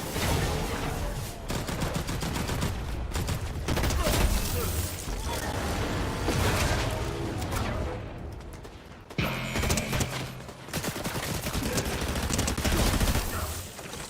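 Video game gunfire rattles in dense, rapid bursts during a boss fight, loud and near, breaking off briefly in the middle before resuming, under faint talk.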